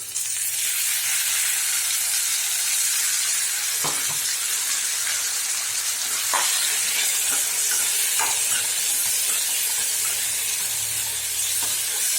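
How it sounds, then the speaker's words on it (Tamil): Ground tomato hits a hot pan for a bitter gourd tamarind curry, giving a steady, loud sizzling hiss with occasional scrapes and clicks of stirring. "இப்போ கரை கரன்னு அடித்து வச்சுருக்கிற தக்காளியை வந்து சேர்த்துக்குவோம்"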